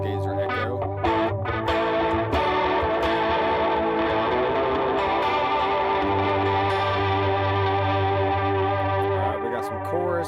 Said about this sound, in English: Let's go on to the Stargazer Echo.